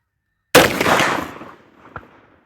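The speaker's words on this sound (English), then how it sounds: "I'm going to show me shooting at the middle of the target" A single loud CVA Crossfire muzzleloader rifle shot fired at a target outdoors, a sharp close blast that rolls into a decaying rumble, with a faint distant echo about a second and a half later.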